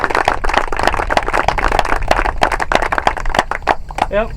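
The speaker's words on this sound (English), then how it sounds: "Let's have a round of applause for the Freeds." Audience applause for the Freeds at a summer conservation cropping seminar, a dense steady patter of many hands clapping close by for several seconds, with a voice breaking in at the very end.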